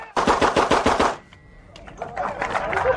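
Rapid gunfire at a speed-shooting event: a fast burst of six close, loud shots, a brief quiet reload with mechanical clicks, then a second quicker string of shots.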